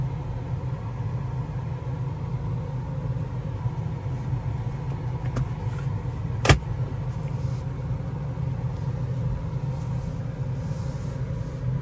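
A BMW car pulls slowly out of a garage, its steady low engine rumble and tyre noise continuous throughout, with one brief sharp click partway through and no talking.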